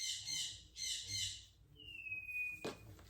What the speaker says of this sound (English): I'm sure you can hear my birds.